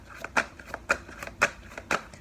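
Tarot cards shuffled for a reading spread, with crisp riffling bursts repeating roughly every half second, close up and in a steady rhythm.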